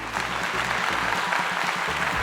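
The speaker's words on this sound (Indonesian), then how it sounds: "mari tepuk tangan untuk para pilot" A crowd claps for airline pilots, a continuous wash of many hands at even strength throughout the short stretch, with no talk over it.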